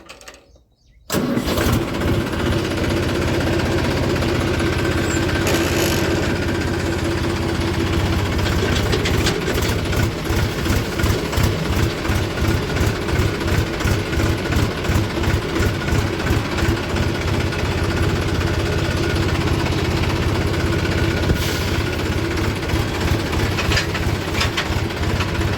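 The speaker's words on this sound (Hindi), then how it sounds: "चलते हैं जी ट्रैक्टर लेके" After a moment of quiet, a farm tractor's engine starts and settles into a steady, loud, close idle with a rhythmic low thumping and rattling vibration, continuing alone with no talk.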